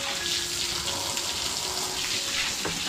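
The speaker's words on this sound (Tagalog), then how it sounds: "medyo malakas na itong hose namin" Water sprays from a strong garden hose in a constant hissing stream from close by, steady throughout with slight fluctuations, and no one speaks.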